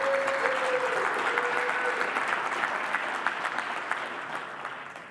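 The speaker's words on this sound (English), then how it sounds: "Go ahead and give her a round of applause." An audience at a technology awards ceremony applauds steadily as an honoree joins the stage, a dense wash of clapping that slowly fades, with a faint tone in the first seconds.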